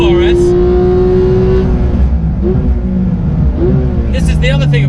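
A Porsche GT2 RS engine pulls hard on a racetrack, its rising tone climbing and shifting through gears, loud and close, with a voice talking over it.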